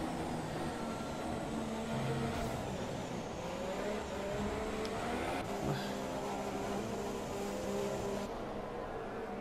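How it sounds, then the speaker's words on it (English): McLaren Honda Formula 1 car engine at full power in the F1 2017 racing game, a steady sustained engine tone with layered harmonics running continuously at moderate level with no talk. "Van Dorn demonstrating a McLaren Honda at full power"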